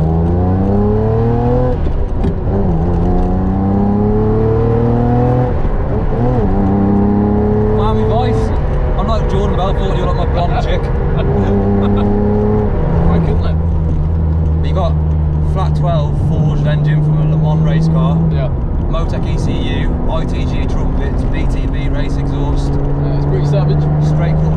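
Ferrari sports car engine revving and pulling through gears on a road rally, loud and close with rising and falling pitch sweeps, while people talk over it throughout.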